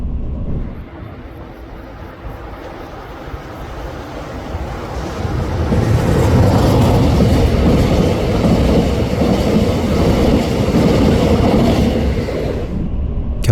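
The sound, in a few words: Mugunghwa train passing near Gwanho 1-ri, Chilgok County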